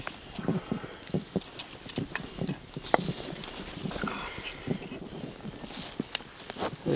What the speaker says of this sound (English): This here is my noble steed Jasper.